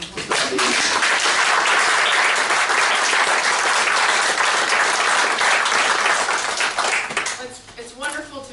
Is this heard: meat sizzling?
no